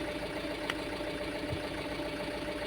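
A Tata Intra V30 pickup's diesel engine idles steadily at its normal speed after a regeneration test, a close, even, constant hum with a faint rhythmic knock and no talk.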